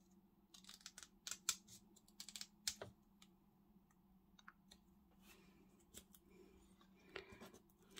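Scissors snip through paper packaging being trimmed for junk journal ephemera, with several close, quiet crisp cuts in quick bursts followed by a few scattered snips and light rustling.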